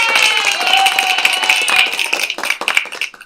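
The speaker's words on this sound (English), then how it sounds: "I'm going to give Carl a round of applause" A few pairs of hands clap in a home livestream setting for a tech helper, bright close claps that grow sparse and uneven toward the end, with a faint voice in the background.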